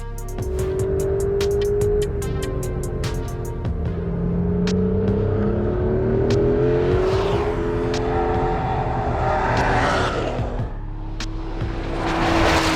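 Porsche 911 GTS T-Hybrid, a rear-engined electrified sports car, driving with a steady engine drone and rising and falling revs and whirring, loud and close, with sharp clicks early on and no talk.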